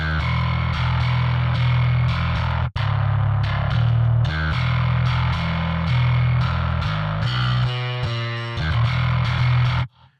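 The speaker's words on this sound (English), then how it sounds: "So I'm gonna go back to this distortion here." Bass guitar pushed through a stock distortion plugin in a homemade amp-sim chain, thick and fuzzy with heavy low end, playing a steady riff with a brief cut near the middle and busier picked notes toward the end.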